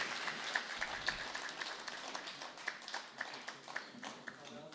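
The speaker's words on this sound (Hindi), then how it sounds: "ज़ोरदार तालियों के साथ स्वागत कीजिए।" Scattered applause from a small crowd at a Hindi poetry gathering, light and uneven, with murmuring voices in the background.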